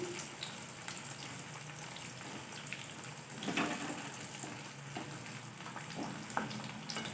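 Onions frying in a pan for mixed dal until they turn red, a constant close crackling sizzle with occasional stirring clicks and spits, no voices.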